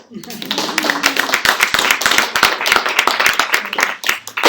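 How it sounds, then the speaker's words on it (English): At a live web talk, scattered individual claps ring out sharply and unevenly, a small group applauding the moderator, with a voice faintly present near the start. "let's please give her a round of applause"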